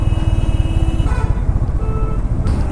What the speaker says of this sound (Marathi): अशाप्रमाणे शिर्डीमध्ये जरासा ट्रॅफिक